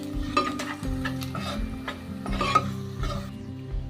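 Spices and sambar powder crackle and sizzle in hot tempering oil, a steady frying hiss broken by sharper pops and spits, close up with no talking.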